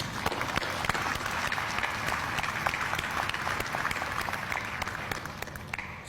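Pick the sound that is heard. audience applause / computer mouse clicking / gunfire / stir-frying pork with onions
audience applause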